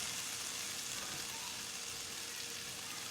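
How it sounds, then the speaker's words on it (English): Butter melting in a hot pan while making a vegetarian breakfast, giving a steady, even sizzle that hisses without a break from start to finish. "Okay, so I'm going to add my butter now."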